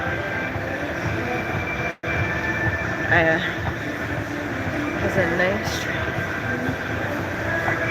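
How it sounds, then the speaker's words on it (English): Train passing through Cedar Point amusement park, a steady rolling rumble that holds throughout, heard beneath a person talking over it. "At Cedar Point, the train."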